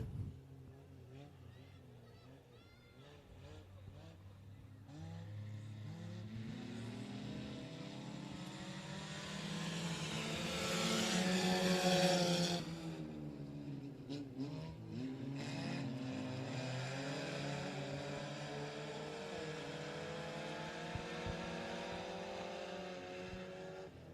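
Front-wheel-drive four-cylinder race cars roar off the start of a heat race at a Texarkana speedway, engines rising together into a loud, sustained multi-car drone that swells mid-race, with an announcer talking over the noise.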